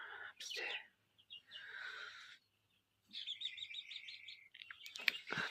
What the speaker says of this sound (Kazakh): Кучинский балапандар өсіп келе жатыр бізде.